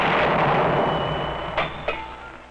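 Artillery guns firing shells on a 1953 Army training range at Hunter Liggett, heard as a dense rumbling barrage that fades, punctuated by two sharper, distant-sounding reports near the end.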